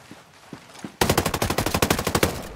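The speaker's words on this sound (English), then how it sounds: "Shoot Furrier first" Machine gun fire in the video game Ghost Recon Breakpoint, starting suddenly after a few faint shots as a loud rapid burst of evenly spaced rounds that lasts about a second and a half.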